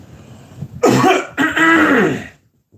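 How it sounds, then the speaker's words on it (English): A couple of loud, close coughs, a short one followed by a longer rasping one, with quiet before and after. "Excuse me, I need a cough."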